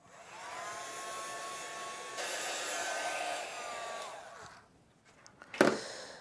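A hair dryer blowing over a wet painting, a steady whooshing motor hum that shifts pitch midway before switching off, followed by a short clatter as it is set down.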